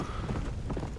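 Hooves of an apocalyptic horse clip-clop in the video game Red Dead Redemption: Undead Nightmare, a quick run of close, clear steps over a brief stretch with no speech.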